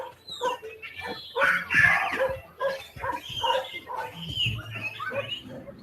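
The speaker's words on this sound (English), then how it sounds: "They share the site with Taif's band of feral dogs." A band of feral dogs barks, yips and whimpers in quick overlapping bursts, moderately close and fairly loud throughout.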